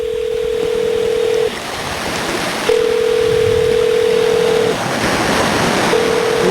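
Telephone dial tone sounds while a call is placed back, a loud steady tone that cuts off and returns in long stretches over a constant hiss, with no voices.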